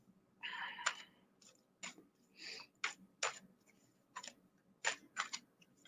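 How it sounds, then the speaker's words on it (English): A deck of cards is shuffled close up, producing soft irregular riffling and snapping clicks in several short bursts with quiet pauses between, no voices. "While I'm shuffling the cards"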